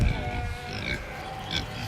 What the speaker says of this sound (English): We're gonna start with the pigs.